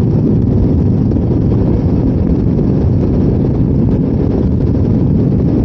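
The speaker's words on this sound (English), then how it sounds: "we're going into the wind and uphill at the same time" Steady, loud wind roar buffets the microphone while riding uphill into a headwind of about 15 mph with stronger gusts, a dense low rumble that never lets up.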